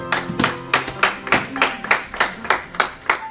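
A church congregation claps together in praise, a steady rhythmic beat of about ten unison claps, fairly close and clear, with no talk over it.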